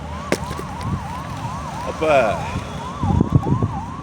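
A police or ambulance siren wails in a repeated rising-and-falling cycle at moderate distance, with traffic noise beneath, and someone speaks briefly over it.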